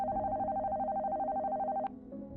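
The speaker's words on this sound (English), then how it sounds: "the silence is interrupted by a phone call." A telephone rings in a dubbed horror story: a steady electronic ring tone sounds loud and unbroken for almost two seconds, then stops abruptly, leaving a faint hum.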